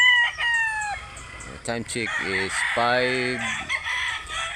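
Roosters crow repeatedly at an early-morning chicken market in Barili, Cebu, several loud, close calls overlapping with clucking, while someone speaks briefly.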